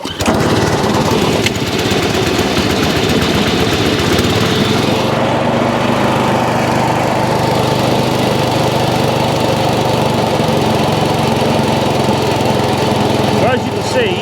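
Massport Olympic cylinder lawn mower with its engine running steadily, a loud continuous drone with the cutting cylinder turning constantly, unbroken throughout.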